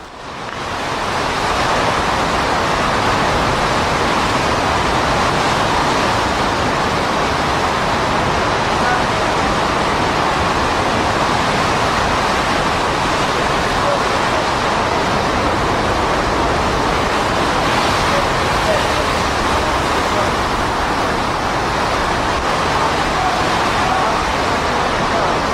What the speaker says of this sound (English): Before the surge came up, I decided to have a little fun in the wind.